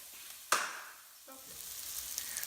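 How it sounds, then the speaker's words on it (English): Chopped onion sautés in a pan as the first step of a red wine risotto, giving a soft sizzle that flares briefly when stirred, then settles into a quiet, steady frying hiss. "So our onion now are being sauteed"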